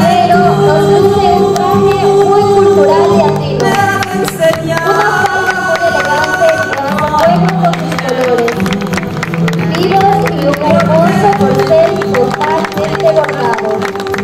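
Audience applause and crowd noise at a binational beauty queen pageant, a continuous wash of clapping and cheering under loud pageant music that runs throughout.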